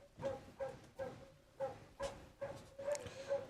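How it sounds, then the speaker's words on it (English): A dog barks repeatedly in an irregular series of short woofs with brief gaps between them, moderately loud but somewhat distant and muffled indoors, with no talking. "Sorry about the freaking dog barking."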